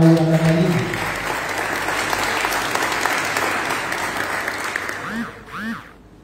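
Audience applause for Laura Catalina Lotero of a young animal-rights group in Envigado, steady broadband clapping over about six seconds, with a short tonal voice or music phrase at the start and a brief voiced sound near the end.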